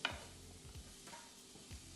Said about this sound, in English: then I'm going to add in my peppers